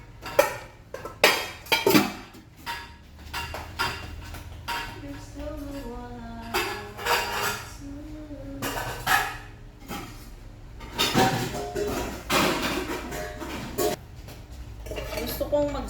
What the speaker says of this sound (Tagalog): Hugas-hugas tayo ng mga plato, yung ating mga pinagkakainan.